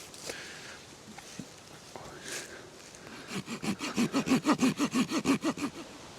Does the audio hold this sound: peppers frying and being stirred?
no